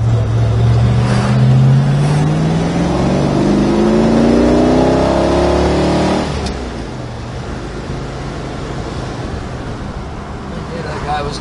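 A 1972 Plymouth Duster engine pulls loudly down the road, its revs climbing steadily for six seconds before easing off into a quieter cruising drone with road noise.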